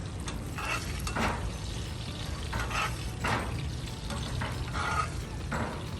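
Beef tenderloin sears in a cast iron pan inside an RV, with a steady sizzle and crackle broken by periodic louder spatters, fairly quiet and with no talking.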